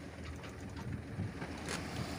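Broad wind and water noise wash over a sailboat rocked by ocean swell off Cape Finisterre, Spain, with soft rushing swells and creaks rising and falling; no voices.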